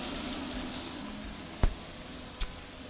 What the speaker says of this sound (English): That sizzle though.